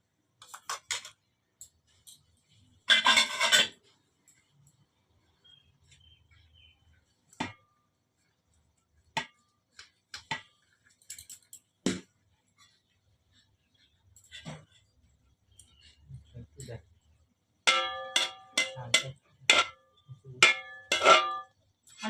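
Metal cooking pot and spoon clinking as biryani is layered, with sparse, scattered taps and chinks spread over a quiet stretch, a louder cluster of clinks near the end, and faint voices in the background.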